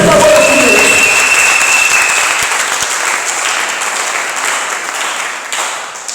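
A church congregation at a Sunday service breaks into loud, sustained applause acclaiming Jesus, dense clapping from many hands that slowly eases off, with a few voices calling out over it.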